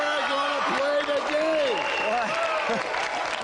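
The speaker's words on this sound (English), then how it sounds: "Round of applause for our brave volunteer." A game show studio crowd keeps clapping steadily for a volunteer while someone talks clearly over the applause, his voice prominent above the constant hand-clapping.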